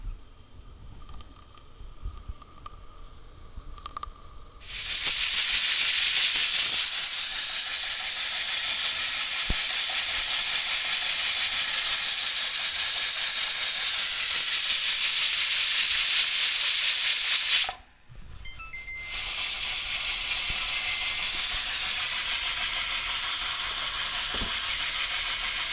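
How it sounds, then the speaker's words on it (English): Pressure canner of chicken broth on a gas stove venting steam, a loud, steady rushing hiss that starts after a quiet stretch, drops out briefly and then resumes, with no speech. "We'll let it come up to a boil until it's blowing steam out."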